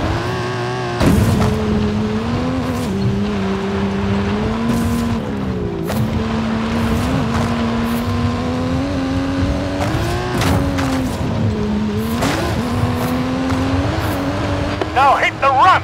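Stunt car with a custom engine and suspension in Forza Horizon 5, its V10 revving hard uphill: a loud, close, sustained engine roar with rising pitch sweeps, gear-change dips and brief bursts of tire noise.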